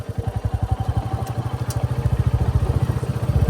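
Royal Enfield Bullet 350 Battalion single-cylinder motorcycle ridden off-road on hill trails, its loud steady thumping exhaust pulsing in a fast even rhythm close by, with no talk.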